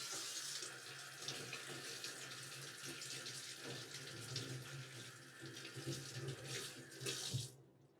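Water runs steadily from a kitchen tap while beans are rinsed, a continuous close splashing hiss that shifts now and then and cuts off abruptly at the end.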